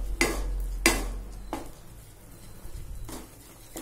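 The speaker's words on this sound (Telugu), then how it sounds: "కంటిన్యూస్గా స్టిర్ చేస్తూ ఉండాలి" Thick mango burfi mixture is stirred in a pan over a low flame, with four distinct scraping sweeps of the spoon at steady intervals, close and fairly quiet with no voices.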